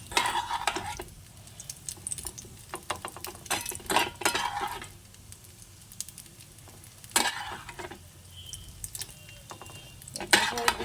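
A utensil repeatedly scrapes and clinks against a pan while egg and onion are stirred in hot oil, the irregular bursts of stirring set over a soft, steady sizzle with brief quieter gaps.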